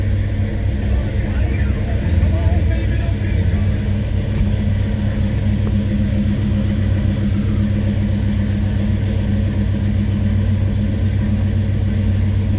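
A 1966 Ford Mustang engine runs at a high idle after starting, giving a steady, loud, low rumble that continues throughout.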